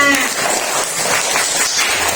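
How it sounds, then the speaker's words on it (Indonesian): A classroom of students bursts into applause, a dense, steady clatter of many hands clapping together at close range, with a brief voice at the start. "tepuk tangannya"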